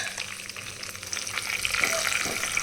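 Curry leaves sizzling in hot oil for a tamarind rice tempering, a steady close crackle and hiss that grows a little louder partway through, with faint stirring and no talk.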